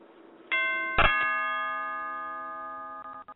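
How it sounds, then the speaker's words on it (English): A two-tone doorbell chime rings out clearly, its bright tones lingering and slowly fading, with a few soft clicks near the end. "Oh, wait, we got the doorbell."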